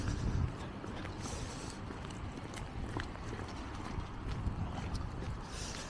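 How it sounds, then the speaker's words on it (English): Horses clip-clop on the street near the royal stables in Stockholm's Östermalm, with irregular hoof clops in rainy town ambience and faint background noise. "this is also the area of the royal stables, you know, where they have the horses"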